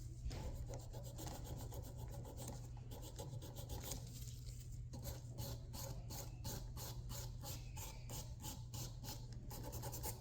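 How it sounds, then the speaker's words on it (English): Steady rasping of a nail file working over fingernails to strip polish in a salon removal service, continuous close scraping strokes with a low background hum throughout. "we never want to hurt our guests when we're filing"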